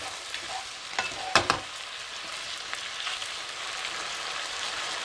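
Chicken pieces sizzle steadily in a hot pan for a ginger stir fry, with a couple of sharp utensil scrapes near the start as the meat is turned.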